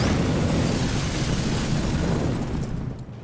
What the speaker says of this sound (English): They think it's a hand grenade.